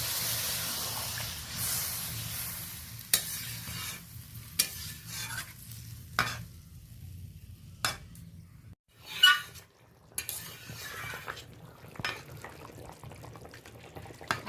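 Water added to curry frying in a pan for a bori and cauliflower bhetki fish jhol, a soft sizzling hiss broken by scattered clinks and scrapes of stirring.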